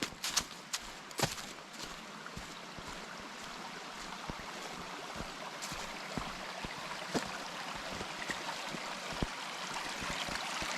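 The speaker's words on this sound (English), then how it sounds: "I hear water." Water flows and trickles steadily in a stream on the Appalachian Trail in December, with scattered small splashes and clicks over the continuous rush.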